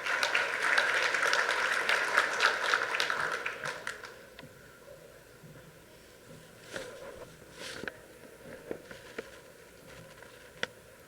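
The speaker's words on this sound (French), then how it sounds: "Sous vos applaudissements, bien sûr." An audience at a World AIDS Day ceremony applauds Kenneth Merten of the United States. The clapping is quiet and dense for about four seconds, then fades to a few scattered taps in a hushed room.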